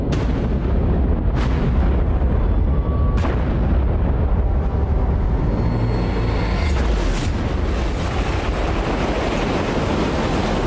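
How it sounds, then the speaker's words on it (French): Depth charges dropped by escort ships explode underwater in a continuous barrage of deep, heavy booms and rumbling blasts, loud and dense, with sharper detonations cutting through near the start. "Une fois l'ennemi repéré, les escorteurs lancent des centaines de grenades sous-marines."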